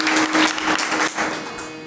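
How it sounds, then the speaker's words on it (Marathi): Audience applause at a Marathi kirtan religious gathering, a dense burst of clapping lasting under two seconds that fades slightly toward the end. "या सगळ्या मंडळीसाठी एकदा टाळ्या वाजवावर कडकडून"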